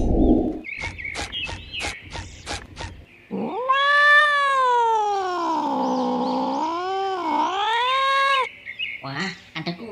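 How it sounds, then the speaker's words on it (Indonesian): A cat gives a long, loud, drawn-out meow with a wavering pitch, close by, preceded by a quick series of sharp clicks and followed by brief softer sounds. "Wah, ada kucing."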